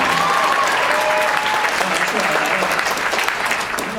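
Audience at a Bruce Campbell fan convention Q&A gives a light, polite round of clapping, steady and fairly close throughout, with voices murmuring beneath it.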